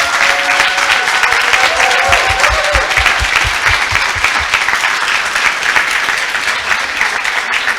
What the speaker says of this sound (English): I want to give a huge round of applause to all of them